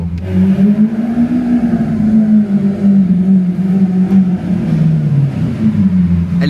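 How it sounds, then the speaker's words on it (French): A sports car engine in Monaco drones loud and steady through an open window, a deep even hum that swells slightly and settles without pause. "Mais le bruit qu'elle fait cette voiture, frère."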